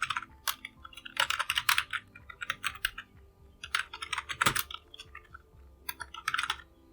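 Bursts of rapid key clicks on a computer keyboard while entering a password and email during a WordPress install on Linux, clustered in quick flurries with short pauses, close and fairly crisp.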